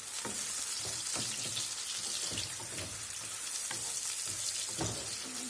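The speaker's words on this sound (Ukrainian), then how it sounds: "наша наша цибулька тушиться" Onions stewing and frying in a pan, an even, fairly quiet sizzle and crackle throughout with occasional scraping stir clicks, no talking.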